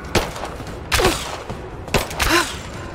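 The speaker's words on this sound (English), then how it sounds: "I'm taking fire." Gunfire crackles during a firefight in Rise of the Tomb Raider, several sharp loud shots coming in irregular clusters with metallic ringing tails, no voices over them.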